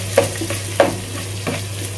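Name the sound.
garlic paste and green chilies stirred and frying in a pan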